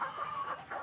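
Hens at a poultry farm give a short burst of clucking, two or three quick, faint calls close together.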